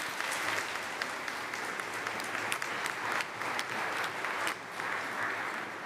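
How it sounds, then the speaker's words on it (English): Church congregation at Sunday Mass clapping for a couple, sustained dense applause from many hands in a reverberant hall, steady throughout with scattered sharper claps. "Let's give them a round of applause."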